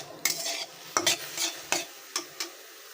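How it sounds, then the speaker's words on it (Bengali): Shrimp fry lightly in a pan with a soft sizzle, broken by several sharp scraping stirs of a utensil against the pan at irregular intervals, close and fairly quiet. "চিংড়ি মাছগুলোকে একটু হালকা করে ভেজে নেব, খুব বেশি ভাজবো না।"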